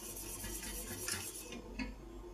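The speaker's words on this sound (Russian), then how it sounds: "Постоянно помешивая, довожу свой крем до кипения." A utensil scrapes and clinks against a pot while custard cream made with eggs is stirred on the stove, a few soft metallic taps over a low steady background, with no voices.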